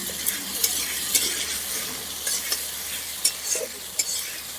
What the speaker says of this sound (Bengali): আমি পেঁয়াজের সাথে টমেটোকেও ভালো করে ভেজে নেব।